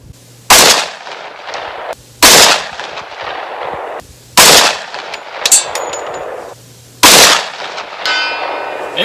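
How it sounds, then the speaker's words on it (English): Four loud 10mm pistol shots ring out about two seconds apart at a range, each sharp crack followed by a long echoing decay and faint metallic pings from distant steel targets. "let's see what we can do at 200 yards with the pistol"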